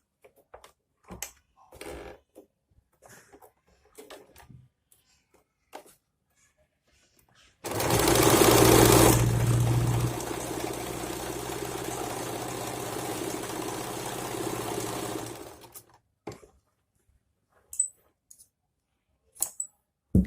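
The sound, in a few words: sewing machine stitching elastic onto a gathered skirt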